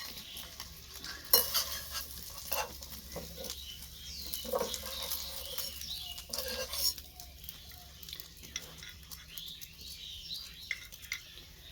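An egg frying on a small mini stove, with soft sizzling and intermittent scraping and stirring clicks of a utensil, fairly quiet and close, no talking.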